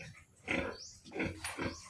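Large pigs in a backyard pen grunt and snort in a few rough, low bursts, moderately close and fairly quiet, with no talking.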